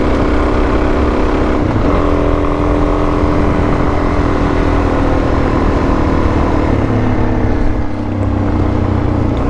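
Motorcycle with a wide Trackmaster 760 rear tire riding on gravel, a loud, steady engine roar close up throughout with crunching road noise beneath and no talk.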